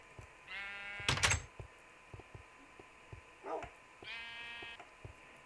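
Minecraft sheep bleat twice in a wavering, nasal tone, with a sharp clatter between the calls and soft, scattered taps throughout.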